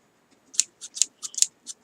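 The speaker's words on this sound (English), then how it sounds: "scissors" A cheap pair of sharpened scissors being handled close up, several quick, faint metallic clicks and snips in an otherwise quiet room.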